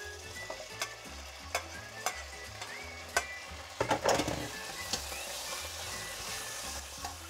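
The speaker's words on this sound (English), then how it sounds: "the beef should be sizzling quite happily" Beef frying in oil in a hot pan gives a steady quiet sizzle, broken by a few sharp stirring scrapes and clinks, without speech.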